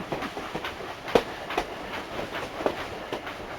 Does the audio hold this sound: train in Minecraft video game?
yes